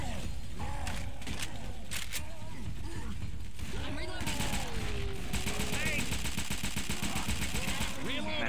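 Rapid bursts of gunfire and clattering weapon mechanisms from the video game Left 4 Dead 2, mixed with other game effects and fairly quiet throughout.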